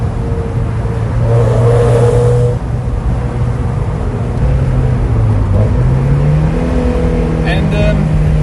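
A 1.8-liter Mazda Miata engine drones steadily from inside the car on winding roads, its low hum rising in pitch toward the end as the car accelerates.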